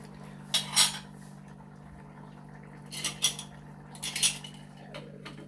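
Metal lid placed over a pot of avial cooking on the stove, giving several brief clinks and clatters in separate bursts, close but fairly quiet, with a low hum beneath.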